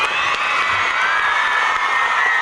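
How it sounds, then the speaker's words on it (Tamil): An audience at a school debate on a social media ban breaks into loud, sustained applause and cheering, with children's shouts and whoops in a dense, unbroken crowd roar that fills the hall. "அதுக்கு ஒரு பெரிய கைதட்டு கொடுக்கலாம்."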